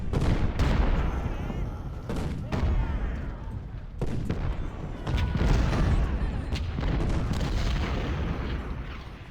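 Artillery fire in a war video game, with heavy booms and blasts rolling continuously and loudly one after another, layered into a dense roar of battle.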